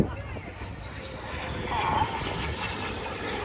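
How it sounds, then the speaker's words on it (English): Red Arrows display jets roll past at an air festival, their engines a steady distant roar that swells slightly midway, heard under continuous commentary from a public address announcer. "each aircraft performs a 4-point hesitation roll"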